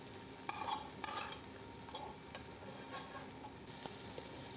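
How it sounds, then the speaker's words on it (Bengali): Boiled noodles are stirred and tossed in a frying pan, giving a steady soft sizzle broken by repeated scraping strokes of a utensil, close and moderately loud. "এভাবেই নেড়ে চেড়ে নেব হালকা হালকা করে মিক্স করে নেব"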